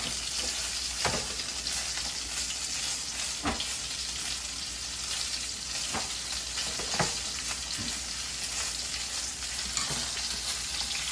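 Breaded chicken fries in a skillet with a steady, dense sizzle, broken by several sharp taps and scrapes at irregular moments as the pieces are moved.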